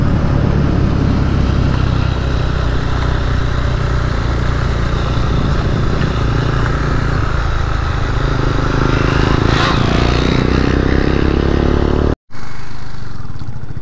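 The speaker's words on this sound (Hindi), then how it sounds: "थर्ड गियर में व्हीली मारने का ट्राई चल रहा था मैं।" A motorcycle engine roars loudly and steadily up close while held in third gear during a wheelie attempt on a highway, with a brief cutout near the end before the engine noise resumes.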